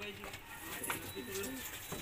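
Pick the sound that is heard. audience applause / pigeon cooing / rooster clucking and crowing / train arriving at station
pigeon cooing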